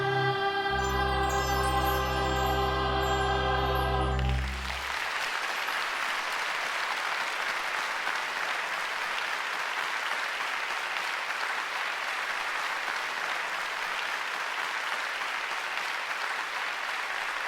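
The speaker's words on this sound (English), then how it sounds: "Thank you for your wonderful applause for Marilyn Lightstone." A sustained musical chord rings out and ends, then an audience at a Christmas Carol holiday special breaks into long, steady applause for Marilyn Lightstone, a dense wash of clapping that continues evenly to the end.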